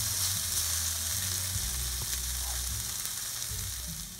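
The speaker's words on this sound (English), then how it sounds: "since our onions are sauteing" Onions sautéing in a pan give a steady, close sizzle and crackle that holds evenly throughout, with no voices.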